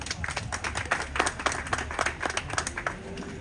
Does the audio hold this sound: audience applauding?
yes